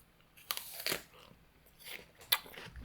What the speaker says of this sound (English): I took a bite of an apple